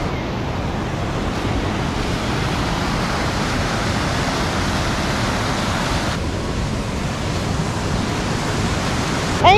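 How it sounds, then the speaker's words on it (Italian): Waterfalls in the Fanes nature park in the Dolomites give a steady, dense rushing roar of falling water, constant and unbroken throughout with no voices. "Ci sono un sacco di cascate bellissime, una più bella dell'altra."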